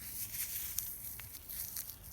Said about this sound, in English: what I suggest is you take them and crumple them